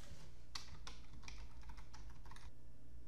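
Keystrokes on a computer keyboard as a connection name is typed into GHL Control Center software, a quick uneven run of clicks over roughly two seconds, close and clear against a steady low hum.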